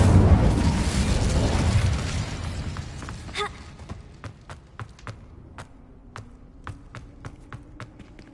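An Incendio fire spell cast in Hogwarts Legacy bursts in a loud whooshing roar that fades over a couple of seconds, followed by a sharp crack and a string of scattered light taps and pops.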